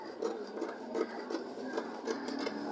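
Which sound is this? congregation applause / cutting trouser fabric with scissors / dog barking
cutting trouser fabric with scissors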